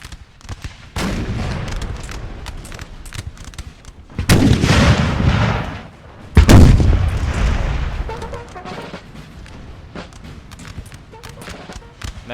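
Austrian cannon fire booms across a Napoleonic battlefield in Napoleon: Total War, with heavy blasts and rolling reports over a crackle of distant musketry, loud and near.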